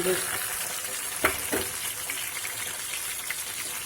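Chopped tomato added to browned onions sizzles and fries steadily in a pan over lowered heat, with a couple of sharp stirring clatters early on and a continuous crackling hiss throughout.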